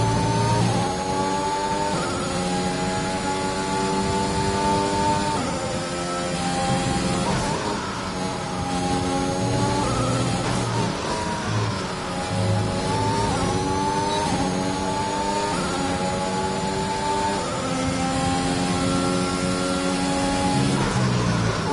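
A race car engine screams through a timed lap in a racing video game, with steady high revving that repeatedly rises and dips through gear changes and corners, loud and constant across the whole stretch with no talk.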